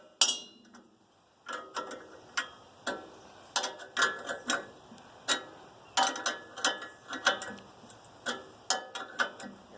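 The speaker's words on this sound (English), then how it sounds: "now I'll just tighten all the lock nuts together so it can't move" Lock nuts being tightened on a Wood-Mizer LX-25 sawmill during assembly give a run of sharp, close metallic ratchet clicks in uneven bursts, with no voices.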